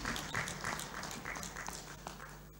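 An audience at a workshop on combating human trafficking gives a round of applause: a short burst of many hands clapping, steady and fairly close, tapering off slightly toward the end.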